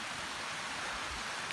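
Heavy rain falls steadily on a rainforest camp, a dense, even hiss that stays at the same level throughout with no voices or other sounds.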